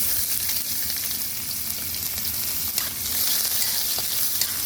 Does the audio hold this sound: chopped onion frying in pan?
yes